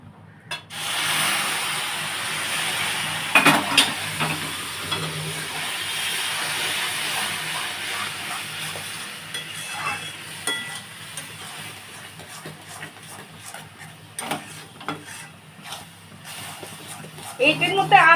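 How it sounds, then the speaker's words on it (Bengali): Water is slowly poured into hot semolina in a pan while making sooji barfi, producing a steady hissing sizzle throughout with occasional faint clatter and a sharper burst near the end. "আমি এর মধ্যে এবারে আস্তে আস্তে করে এই জলটা ঢালতে থাকবো"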